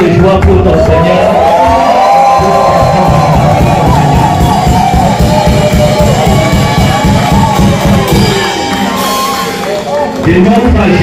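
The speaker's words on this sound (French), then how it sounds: "Pousse des cris de joie pour ton Seigneur." A church congregation shouts and cries out loudly in joyful acclamation, a dense, sustained crowd roar with overlapping voices and yells throughout, briefly dipping near the end.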